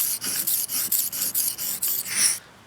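A knife blade scraping in quick, regular freehand strokes across a cheap, coarse sharpening stone of unknown grit, about ten even rasping passes close up, then stopping.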